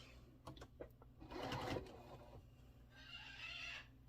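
A sewing machine stitches quilt block seams for a Chisholm Trail sampler block in short bursts, a few quick stitches, then a longer steady run, then another sustained whir.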